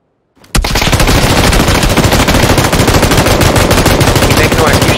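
Video game gunfire in an aerial combat game, a sudden loud burst of rapid automatic shooting that continues without pause, dense and close.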